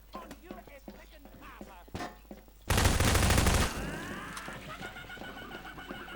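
Gunfire in the video game Hunt: Showdown comes as a loud, dense burst of rapid shots lasting about a second, after a couple of sharper single cracks amid background noise, with a fading tail afterward.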